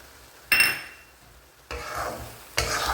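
Sesame oil stirred into a pan of tomato thokku, with three sharp bursts of sizzling and frying as the spoon scrapes through, each burst fading between stirs, close and loud.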